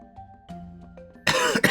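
A man with a cold coughs and clears his throat in two loud, close, harsh bursts, heard over a quiet video game's tonal music and effects.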